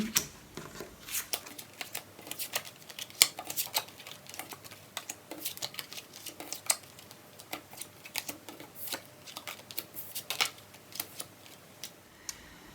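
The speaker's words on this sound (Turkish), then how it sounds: "Şimdi kartlarımızı hep birlikte açalım." Tarot cards shuffled and laid out on a table, a quiet run of irregular crisp slaps and flicks with short pauses, close by and with no talking.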